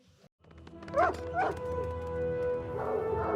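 A dog barks twice in quick succession within a played film excerpt, then gives a few softer yips over a steady musical hum, fairly close and moderately loud.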